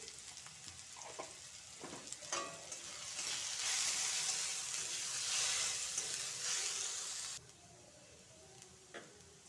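Potato pieces frying in oil with salt and turmeric, a sizzle that swells loud for several seconds and then drops off abruptly, with scattered clinks of a spatula before and after.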